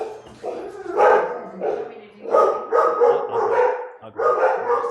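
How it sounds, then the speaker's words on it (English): Several dogs bark at the doorbell indoors, a run of loud, close, repeated woofs and yips in quick bursts across the whole stretch. "that's the doorbell with the dogs"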